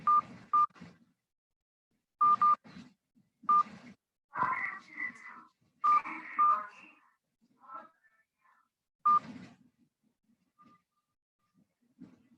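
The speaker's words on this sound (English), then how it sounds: "Enter your meeting ID followed by pound." Short phone keypad beeps sound in scattered pairs and singles while a Zoom meeting ID is entered, interleaved with a quiet automated voice speaking between them.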